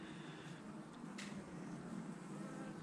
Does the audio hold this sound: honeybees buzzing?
yes